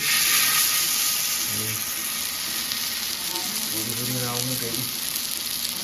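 Chicken pieces frying in hot oil for chicken mandi give a steady, close sizzle that runs throughout, with brief lower clatters of pan or stirring and a few voiced bursts in the middle.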